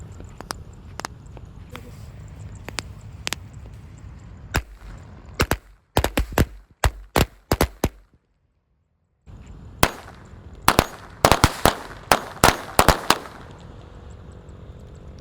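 Corsair Golden firecrackers go off in rapid, irregular bursts of sharp cracks and bangs, close and loud, with a brief pause before a second crackling volley.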